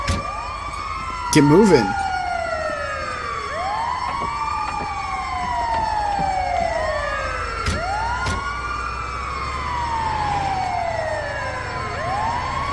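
A wailing ambulance siren in Grand Theft Auto V, with repeated rising and falling sweeps held steady and close throughout, over a low engine rumble, a brief burst of louder noise near the start and a short spoken line.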